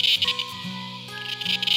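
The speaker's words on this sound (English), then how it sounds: "Most people recognize the sound that they make, and that sound is coming from the males." Male cicadas call by flexing their timbals, making a high, buzzing drone that pulses in short swells, near and fairly loud, over steady lower humming tones.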